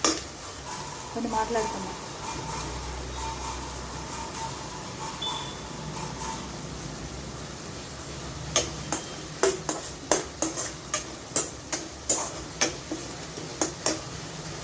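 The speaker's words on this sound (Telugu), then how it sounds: "పచ్చివాసన పోయేదాకా కొంచెం ఫ్రై చేసుకున్నామండి" Jackfruit seed curry frying and being stirred in a pan, a steady soft sizzle with a series of sharp spoon clicks against the pan toward the end, and brief talk early on.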